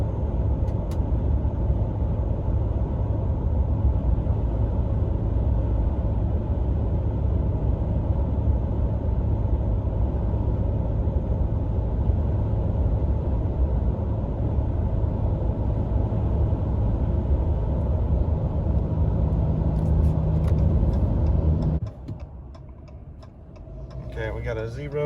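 Cabin of a 2020 Ram 1500 Limited EcoDiesel crew cab pickup cruising at 75 mph on the highway, with a steady low road and engine drone and a faint rhythmic ticking, easing off near the end.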